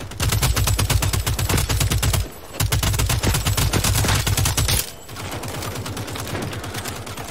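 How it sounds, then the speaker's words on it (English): A submachine gun in the game Second Extinction fires long, loud bursts of rapid, evenly spaced shots, with two short breaks between the strings of fire. "The SMG is such a fun weapon."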